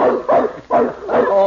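A large dog barks and bays in short, loud bursts close by, with a person's voice mixed in among the barks.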